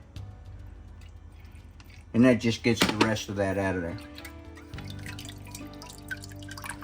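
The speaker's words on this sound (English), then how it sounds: "I'm going to go ahead and add my water to the can." Water splashes and trickles into a can in a kitchen during sauce preparation, a short loud burst that then settles into quiet dripping, with someone talking over it.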